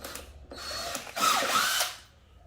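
A power drill backs out long T25 screws in short bursts: a brief whir, a pause, then a louder, sustained whine that rises and winds down, heard close with no talk.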